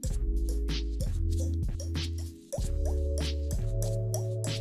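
A voice imitates water drops with a string of wet, plopping mouth sounds, repeated roughly every second, close and fairly loud over a steady droning game soundtrack.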